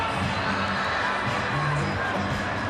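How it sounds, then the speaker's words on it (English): A packed rugby stadium crowd at Emirates Lions vs Glasgow Warriors reacting after a missed kick, a dense continuous roar of murmurs and raised voices, steady and fairly loud throughout. "The crowd's shocked."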